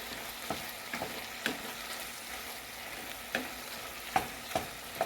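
Breakfast sausage being mashed and browned in a pan, a soft steady sizzle broken by scattered scraping and tapping strokes from the utensil, close but quiet, with no talking.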